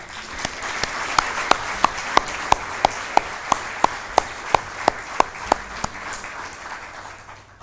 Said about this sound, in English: please give a round of applause for Bree Barron and Kevin Cravens.